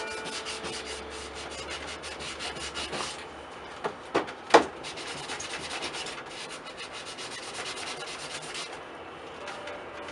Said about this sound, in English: Use a hand sponge, or a sand sponge.